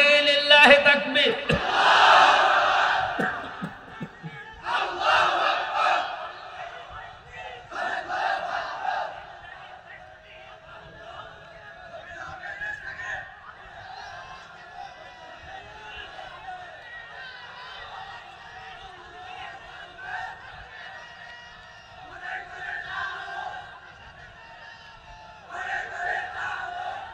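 A large crowd at an Islamic tafsir mahfil gathering shouts Allahu Akbar in loud, unison bursts, repeated several times, with a preacher's voice filling the gaps between the roars.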